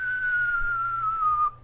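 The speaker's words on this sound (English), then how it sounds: "that scary whistle of a bomb coming in" A single long descending whistle of a falling bomb fitted with a Jericho trumpet siren, loud and clear, gliding slowly downward before cutting off abruptly.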